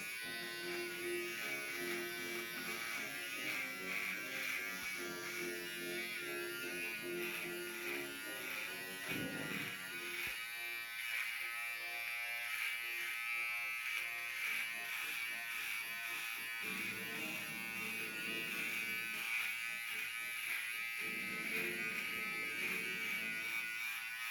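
An electric shaver trims facial hair along the jaw, giving a steady close buzzing hum that holds for the whole stretch, its tone shifting slightly as the head presses against the skin.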